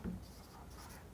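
A pen scratches quietly across paper while a math solution is written out, a faint, brief stroke with no talking.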